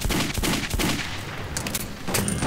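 Loud, sustained gunfire in the video game Metro 2033, with dense overlapping shots and rapid bursts filling the whole moment, no talk over it.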